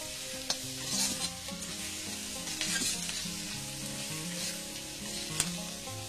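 About 100 grams of sliced onions fry in oil for a Bengali dried fish curry, with a dense, even sizzle and occasional stirring scrapes running throughout under quiet background music.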